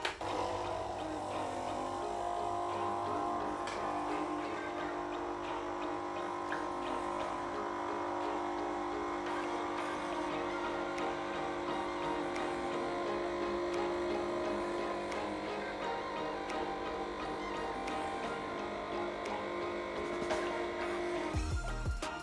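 A Nespresso capsule machine pumps and brews espresso with a steady, loud mechanical buzz and hum that runs for about twenty seconds, then cuts off abruptly near the end.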